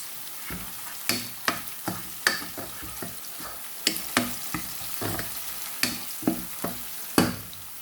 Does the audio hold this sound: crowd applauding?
no